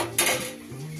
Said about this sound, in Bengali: এইভাবে হালকা হাতে একদম কড়ার গায়ে এইভাবে হাতাটা রেখে এইভাবে নাড়তে হবে।